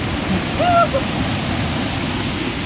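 Water tumbling down over hillside rock at Dharapalli waterfall gives a steady, rushing roar close by, with a short chirping call riding briefly above it near the start.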